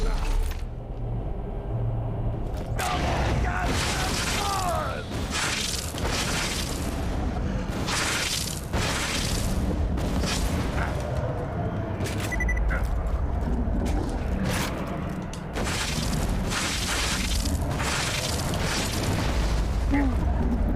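Repeated booming rocket explosions from rocket jumping in a shooter video game, heavy blasts every second or two over constant rumbling game noise, with speech mixed in.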